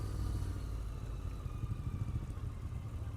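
A 2020 Royal Enfield Continental GT 650 twin runs steadily at low revs, a close, continuous mechanical rumble with light clatter and no talk over it.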